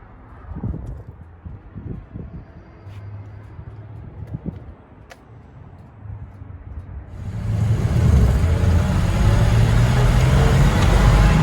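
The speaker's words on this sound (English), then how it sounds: "Shifts through the gears real nice." A 1962 Ford F-250 Unibody pickup drives along with a low, uneven engine rumble. Partway through it shifts gears and the engine and road noise swell into a louder, fuller roar.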